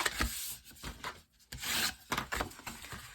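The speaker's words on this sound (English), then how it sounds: "So just fold and burnish all of the sides" Paper for a craft box is folded and burnished along its sides, giving soft rubbing and scraping strokes in irregular bursts, close and fairly quiet.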